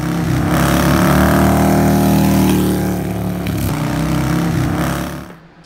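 A Harley-Davidson Fat Boy motorcycle engine rumbles loud and close, a deep steady drone with shifting pitch as the bike is ridden, fading out at the end.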